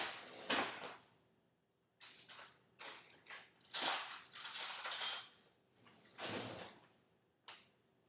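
Metal spoon and cutlery clink and rattle in a kitchen drawer during cookie dough preparation, a series of sharp, bright clatters in bursts with short pauses between them, close by and with no talking.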